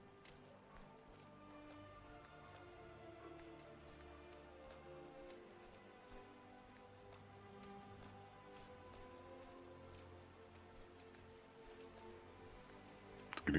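Rain falls in Skyrim as a faint, even hiss running through the whole stretch, with a low hum of game music beneath and a brief louder knock at the very end.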